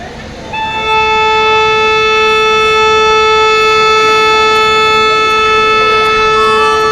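A loud, sustained horn from the Kanchanjunga Express locomotive blares with steady multi-tone chords for several seconds as the train departs, starting after a brief moment of background noise.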